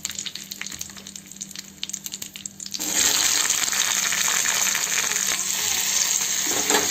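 Onions and curry leaves dropped into hot oil for besan mokda, a quiet sizzle first, then a sudden loud crackling hiss as the onions go in, continuing steadily and close up.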